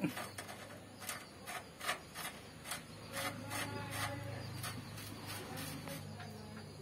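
A wrench tightening a nut on a three-wheeler wheel hub, giving a quiet series of rhythmic ratcheting rasps, evenly spaced at first and then blurring into a steady grinding.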